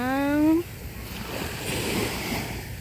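Morning sea water laps and washes at the shore, a steady broadband rush of waves with some wind. A short voiced tone sounds at the very start, then the water noise continues alone.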